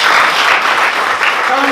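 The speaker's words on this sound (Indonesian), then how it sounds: "Tepuk tangan dulu buat Tuhan." A church congregation applauds during a sermon, a dense, steady wash of clapping from many hands filling the room, with voices faintly mixed in.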